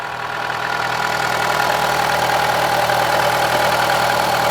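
An Opel A14NET 1.4 turbo car engine idles after warm-up, a steady, even mechanical drone that stays loud and close and continues unbroken for the whole stretch with no voices.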